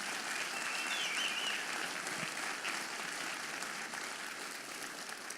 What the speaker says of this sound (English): Please, a round of applause for General Mike Myatt,